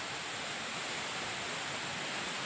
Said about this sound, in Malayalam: എന്തായാലും വെള്ളച്ചാട്ടം കൊള്ളാല്ലേ